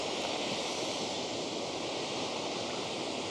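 Nieuwoudtville Waterfall in South Africa roars as a steady, dense wash of falling water, continuous and fairly loud throughout with no break and no talking.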